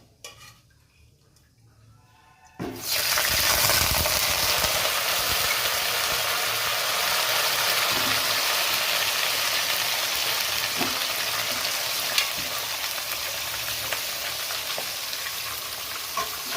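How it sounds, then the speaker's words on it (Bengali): Mutton pieces drop into hot oil with bay leaves and burst into a loud, steady sizzle after a quiet start, with occasional stirring and clinks of a utensil against the pan. "তেজপাতা দেওয়ার পরে আমি মাংসটাকে তেলের মধ্যে দিয়ে দেবো।"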